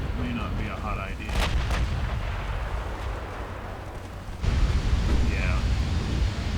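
Battleship main guns fire in the naval combat game Ultimate Admiral Dreadnoughts, set in a 1940 battleship duel off Norway: heavy booming salvos roll out over a continuous rumbling wash of sea and battle noise, with a second loud surge near the end.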